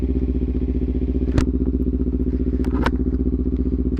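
A motorcycle engine idles or cruises with a steady, close, throbbing rumble, broken by a couple of brief sharp clicks or clatters, with no talking.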